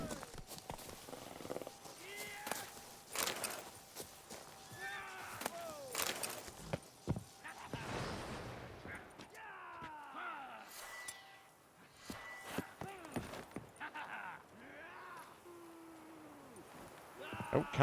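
Hooves clip-clop under a horse ridden in The Witcher 3, mixed with sword swings, grunts and game effects, and someone talks over the action.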